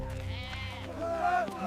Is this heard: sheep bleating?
yes